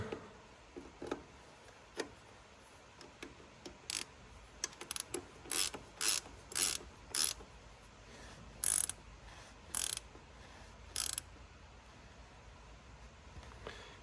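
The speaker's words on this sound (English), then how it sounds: "Go ahead and grab my wrench again." A ratchet wrench tightens the starter on an Allis-Chalmers 8070 tractor in bursts of quick, close clicking strokes, spaced irregularly over a quiet background with no talking.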